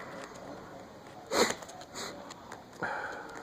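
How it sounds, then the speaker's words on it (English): A few short, wet nasal sniffs from allergies close to the mic, spaced out with quiet pauses between them. "I've been having some allergies, so excuse the sniffles."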